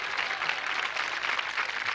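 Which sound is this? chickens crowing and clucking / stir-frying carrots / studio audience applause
studio audience applause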